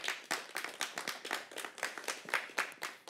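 Small group applauding at a gathering of church volunteers, distinct rhythmic handclaps in a regular beat, faint and close, with no talk.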